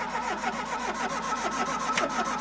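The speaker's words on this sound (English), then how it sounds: "You're going to have to turn it over until the fuel gets in the carb." The engine of an old, long-abandoned Mk1 Ford Fiesta cranks over steadily on the starter, a continuous rhythmic churning heard close without catching.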